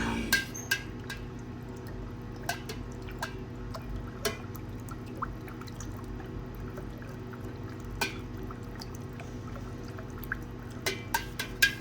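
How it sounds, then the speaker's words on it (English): Electrolyte being stirred in a silver refining cell, a steady low liquid churn with scattered small splashes and clinks against the container, quiet and continuous with no talk. "Let's get in here and stir the electrolyte up."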